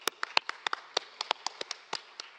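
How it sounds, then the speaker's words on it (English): A small audience at an international migration dialogue claps at the end of an afternoon session, giving a sparse round of distinct hand claps, about a dozen, scattered and fairly faint. "Also a round of applause."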